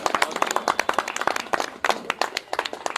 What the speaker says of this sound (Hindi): फिर से एक बार तालियां बजाइए